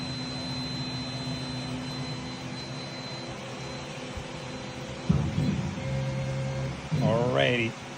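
Langmuir MR-1 CNC machine homing its axes on Stepperonline DM860T digital stepper drivers, a steady mechanical hum with short whining stepper tones and a brief rising chirp near the end, heard up close.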